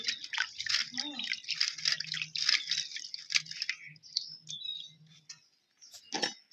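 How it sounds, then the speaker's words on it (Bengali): Green lentils (dal) are washed by hand in water, with steady wet squishing, swishing and dripping for several seconds, ending in a sharper splash, while a voice talks faintly underneath. "এখন আমি এই ডাল কটা ধুয়ে নিমু"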